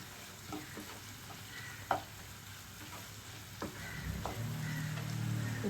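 Cut green chillies fry in hot oil for a mutton paya curry, a steady soft sizzle that swells louder toward the end, broken by a few scattered clinks and stirring taps, with no voices.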